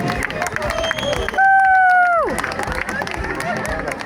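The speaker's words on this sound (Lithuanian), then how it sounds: "Aplodismentais pasitinkame." Audience at a rally winners' ceremony applauds the third-place finishers, a crowd clapping and murmuring throughout while a loud horn-like tone blares briefly in the middle and then drops away.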